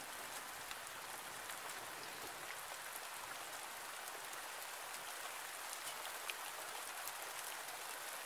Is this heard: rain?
yes